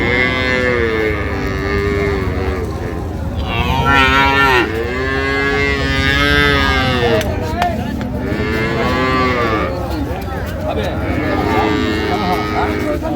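Dairy cows and calves moo repeatedly at a rural cattle market in Dinajpur, with long loud calls that overlap one another against a busy crowd murmur.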